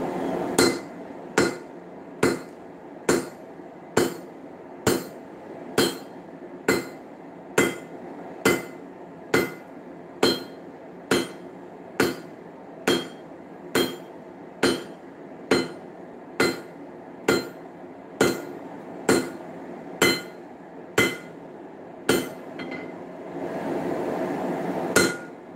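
Hand hammer forging Damascus steel, about thirty sharp ringing blows struck at a steady, even rhythm, loud and close, with a brief stretch of louder broadband noise near the end.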